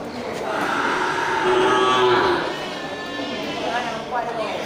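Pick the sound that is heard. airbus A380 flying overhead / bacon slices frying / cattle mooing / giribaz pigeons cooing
cattle mooing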